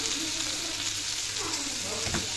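Ground cumin and Kashmiri red chili frying in a pan for a Gobindobhog rice khichuri, a steady close sizzle with faint stirring scrapes throughout.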